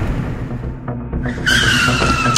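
A car brakes hard and its tires skid, a loud sustained screech rising abruptly over the rumbling engine and lasting to the end, close by with no talk.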